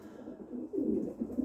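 Long-distance racing pigeons coo softly nearby, a few low rolling coos rising in the second half of a brief moment.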